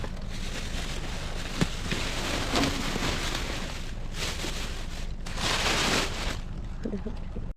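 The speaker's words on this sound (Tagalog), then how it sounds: "umuulan na naman" Steady rain falls at night near a dumpster, a broad continuous hiss with a sharp drop or knock partway through and swelling gusts, loud and close throughout.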